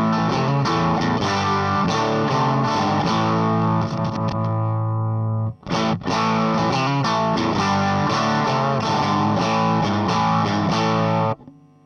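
A Vox AC30 amplifier's normal channel, totally cranked, drives a thick, distorted electric guitar through loud continuous strummed chords, with one brief pause midway.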